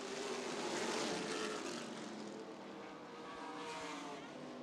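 Late model stock cars racing at Winchester Speedway, a steady roar of several engines blending into a loud, continuous drone that swells and eases slightly as the pack passes.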